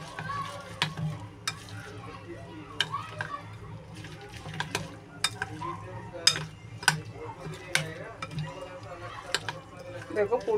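Flowers being stirred into a gram flour (besan) batter in a bowl, heard as repeated utensil clinks and scraping taps with a soft wet churn. A voice speaks over parts of the stirring.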